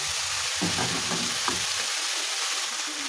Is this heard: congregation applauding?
no